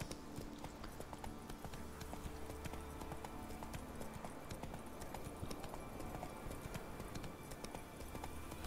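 Horse hooves clip-clop in a continuous rhythmic patter in the video game The Witcher 3, fairly close, over a dense background of ambient noise.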